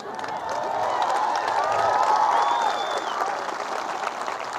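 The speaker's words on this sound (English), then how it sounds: "Yes, nerds are clapping." A large audience at a high school graduation ceremony claps in a sustained, dense round of applause that swells and then slowly eases. Faint cheers and a whistle rise above it, and the crowd sounds moderately distant.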